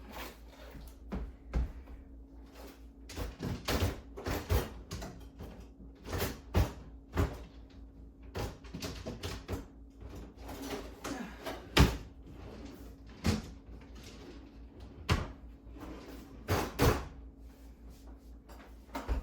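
Bottom drawer of a household cabinet opened during a search for clamps, with scattered knocks, clicks and rattles of items being shuffled and moved throughout, close and moderately loud.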